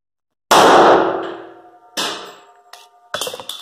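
A handgun shot during a pistol reload drill, one sharp loud crack with a ringing decay, followed by metallic clanks and clicks of the magazine and gun handling, close and without speech.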